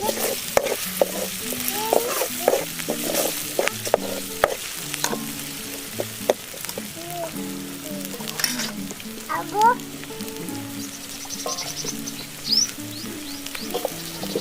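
Ginger garlic paste and turmeric are stirred in a hot pan for a village-style Banjara chicken dish, sizzling steadily while a spoon scrapes and knocks against the metal in irregular strokes, close and clear with no talking.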